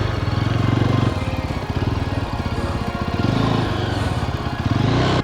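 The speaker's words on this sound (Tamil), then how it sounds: "2 ஜீப்பு ரேஸ் போட்டு போகிறாங்க" Two jeeps race past on an offroad track at Vagamon's Uluppuni Top, their engines throbbing in a loud, steady pulsing drone with slight surges in revving, close by and continuous throughout.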